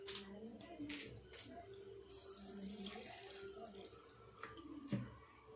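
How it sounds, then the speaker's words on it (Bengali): Water poured from a bowl onto sugar in a kitchen to make syrup, a soft running splash and trickle that lasts a few seconds at close range, with faint clatter and brief voice in the background. "এখানে এক বাটি এর মধ্যে জল দিয়ে দিলাম"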